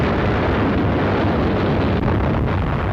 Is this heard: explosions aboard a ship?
yes